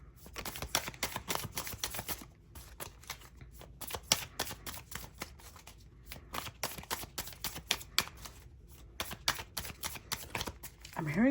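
Tarot cards shuffled and drawn from a deck, a steady run of quick papery riffles and flicks close by, with a few brief pauses and soft speech at low level.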